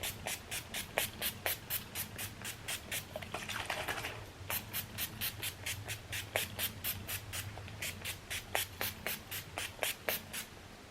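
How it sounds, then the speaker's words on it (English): A pump bottle of Zuri Flawless Makeup Setting Mist in a semi-gloss finish is sprayed onto a face in quick, evenly spaced spritzes, one soft hissing burst after another, close up and quiet, with a longer hiss partway through. "I want to go ahead and spritz my face with the Zuri Flawless Makeup Setting Mist in a semi-gloss finish"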